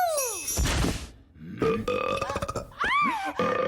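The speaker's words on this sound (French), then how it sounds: "Il semblerait que ce soit une boîte à rots, votre majesté." A magic burp box in a cartoon lets out a string of long, exaggerated burps, loud and close, with rising and falling croaks and short pauses between them.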